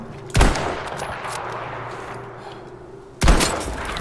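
Gunfire in the video game Battlefield V: two loud, sharp shots about three seconds apart, separated by a lingering rumbling battlefield ambience.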